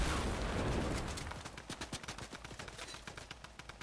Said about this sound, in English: I'm gonna snipe him.